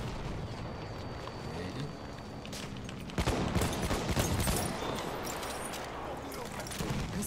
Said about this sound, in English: Shot some grenades.